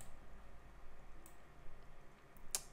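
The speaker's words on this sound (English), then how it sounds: "So let's click OK." A single mouse click on an OK button in ZW3D surface modelling software, one short sharp tick near the end against a faint quiet room hum.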